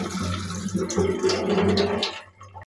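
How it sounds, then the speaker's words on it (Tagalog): Bean sprouts being rinsed in water, a steady splashing and sloshing that runs close and fairly loud for a couple of seconds before tapering off, with no voices. "Huhugasan muna natin itong toge natin."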